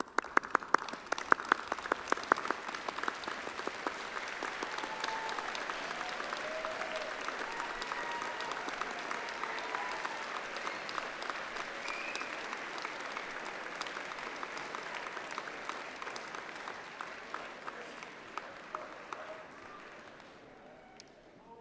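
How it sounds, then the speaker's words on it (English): A graduation ceremony audience gives a long, sustained round of applause, dense and steady clapping that fills the hall for over twenty seconds before slowly thinning out at the end. "join me in showing your thanks with a huge round of applause"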